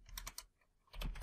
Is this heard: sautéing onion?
no